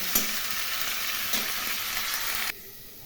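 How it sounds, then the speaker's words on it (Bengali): Potatoes, flat green beans and cauliflower fry in hot oil in a Bengali kitchen, giving a close, steady sizzle with a couple of stirring scrapes before the sound cuts away abruptly. "এখন আলু, শিম এবং ফুলকপি ভালো করে ভেজে নেব"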